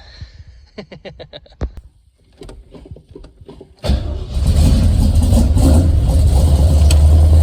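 A 304 four-speed AMX car engine cranks briefly and fires up indoors, then settles into a loud, steady, rumbling idle that fills the space.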